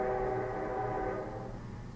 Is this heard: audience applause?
no